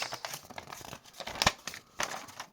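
Paper packaging of a Hasbro Beyblade Burst Evolution Fafnir F3 spinning top being unwrapped: quiet crinkling and tearing with a few sharper rips, close up and without talk.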